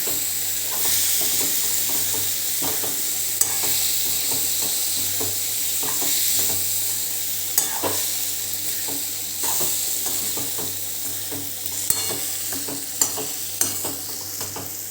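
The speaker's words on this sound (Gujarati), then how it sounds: "હવે આ બધું આપણે હલાવી કાઢવાનું છે।" Dry chole with spices, salt and crushed peanuts being stirred in a pan, a spoon scraping steadily against the metal with a continuous soft sizzle underneath.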